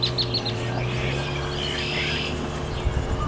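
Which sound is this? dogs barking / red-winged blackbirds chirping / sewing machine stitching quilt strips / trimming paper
red-winged blackbirds chirping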